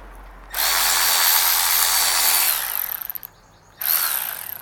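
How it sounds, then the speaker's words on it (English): A power wrench whirs loudly and continuously for a few seconds, sputters to a stop, then starts up again for a second burst, heard close and alone. "That's a wrench that turns itself."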